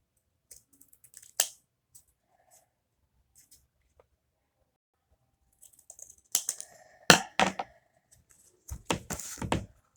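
Scissors cutting a circle of fabric into a rounded shape, a few sparse close snips and crisp clicks separated by quiet pauses, clustering into quicker bursts toward the end.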